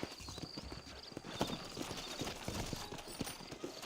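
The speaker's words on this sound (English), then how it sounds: "I got the horses saddled up and ready out front." Horse hooves clip-clop on the ground in the Red Dead Redemption video game, a quick irregular run of close hoofbeats over faint background ambience.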